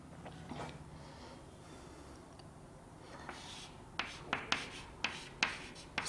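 Writing during a Class 10 maths lesson on circles: faint, quiet scratching strokes, then a run of sharp, evenly spaced taps and clicks near the end, with no talking.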